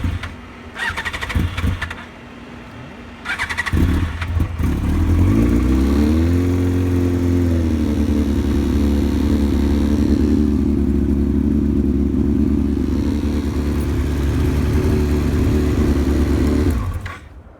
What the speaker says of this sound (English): You're gonna start the bike for probably about 5 seconds, let the oil start circulating